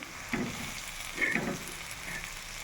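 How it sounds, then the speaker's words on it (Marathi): Crushed toor bean chutney with green chilli, garlic and cumin sizzling on a hot tawa, a low continuous frying hiss broken by two soft stirring swells, heard close with no talking. "तुरीच्या दाण्याची तवा फ्राय चटणी."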